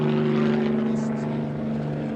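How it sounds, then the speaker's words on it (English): A low-flying military police helicopter over a highway protest, heard as a steady droning rotor and engine hum that stays loud and constant throughout, with faint background noise. "One helicopter now is in real low. Military police helicopter"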